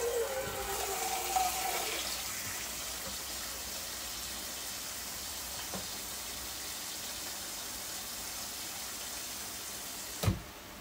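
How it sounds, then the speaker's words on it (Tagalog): Water is poured into a pot of chicken for tinola, a rushing splash that is strongest over the first two seconds and then settles into a steady hiss, ending with a short knock, close by and with no talking. "Maglagay tayo dito ng water para lumambot ang ating chicken"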